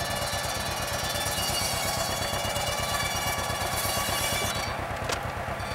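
A tractor engine lugs down under load while clamps grab a block, giving a loud, close, rapid knocking chug that pounds steadily throughout, with a brief sharp clank near the end.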